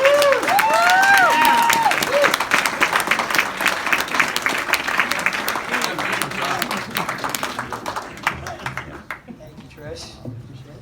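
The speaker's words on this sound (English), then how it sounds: "let's give a big round of applause and welcome to Dr. Nirav Shah and Al Sapienza" A crowd bursts into applause and whoops welcoming Dr. Nirav Shah and Al Sapienza on stage, with high cheers early on and dense clapping that gradually fades, while voices sound over it.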